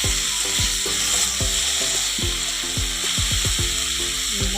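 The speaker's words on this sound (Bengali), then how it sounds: "মশলাটা রেখেছিলাম ওটা দিয়ে দিলাম। একটু কষিয়ে নেব" Spice masala for a fish curry sizzling and frying in a pan, with repeated scraping and clanking strokes of a utensil stirring it, close and steady throughout.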